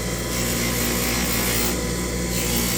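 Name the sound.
polishing a custom dental night guard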